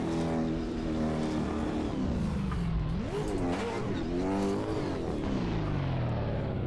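A race car engine in a wheel-and-pedal racing game during an ESDA round 4 test run, a loud continuous drone that revs up and down through shifting pitches, with occasional tire noise and no talking.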